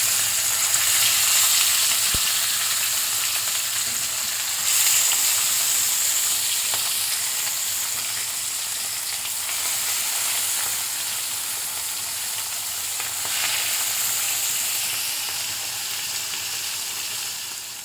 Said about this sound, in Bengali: এই ফিশ ফ্রাই আমার কাছে এই যে তেলে ভাজতেছে ঠিক একদম এইভাবে ভাজবে